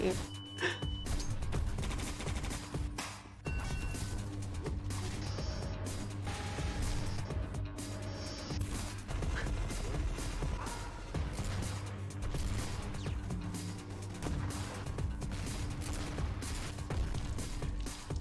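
Full-auto gunfire in E.Y.E Divine Cybermancy, a dense continuous rattle of shots with crashes and mechanical noise layered over a steady game soundtrack, sustained and fairly even in loudness throughout.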